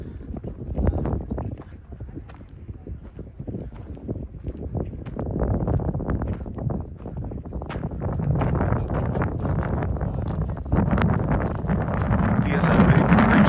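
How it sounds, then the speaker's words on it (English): Gusty wind at hilltop Les Baux-de-Provence buffets the microphone with rumbling low bursts, steady and loud, joined by irregular clopping knocks and occasional voices. "but very windy."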